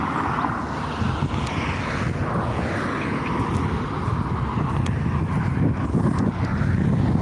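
An airplane at Naval Air Station Fort Worth makes a steady broadband roar, with wind buffeting the microphone throughout, and no one speaks.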